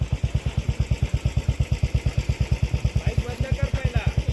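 A motorcycle engine runs steadily on an off-road dirt trail in Ekole Valley, with a loud, even, rapid thumping pulse and no speech during the clip.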